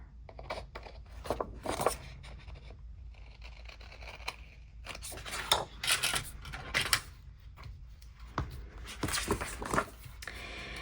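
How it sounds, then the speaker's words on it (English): Scissors trim excess paper from a dashboard planner page, a series of close, crisp snipping cuts in irregular bursts with quiet rustling between them. "So let's just trim the excess off here."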